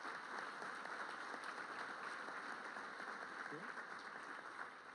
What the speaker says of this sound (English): About a round of applause for them